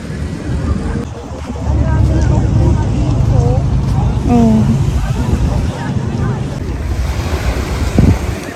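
Sea waves wash onto a sunny beach under heavy wind noise, a steady loud surf roar with voices and children talking and calling over it.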